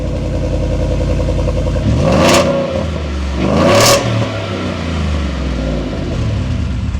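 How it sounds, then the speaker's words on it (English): A Ford F-150's Coyote V8 engine idles after a cold start with a deep burbling rumble, then revs hard twice in loud roaring bursts before settling back to idle. "we're going to get a cold start up so we can really hear that Coyote V8"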